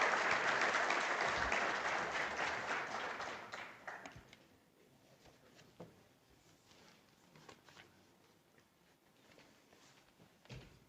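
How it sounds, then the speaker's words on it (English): A conference audience in Namibia claps warmly for an opening speaker. The applause is full and close for about four seconds, then fades into scattered claps, shuffling and a few knocks in a quiet hall. "a warm round of applause"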